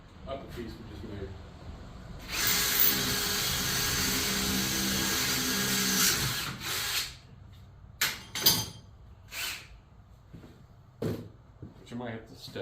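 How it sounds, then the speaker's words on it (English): A drill whines into metal for about four seconds, then stops, followed by scattered clanks and handling knocks, while drilling a custom core support piece for a 1957 GMC truck. "We still got to drill out the upper piece we just made."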